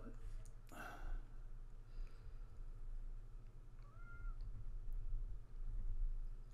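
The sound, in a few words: cat meowing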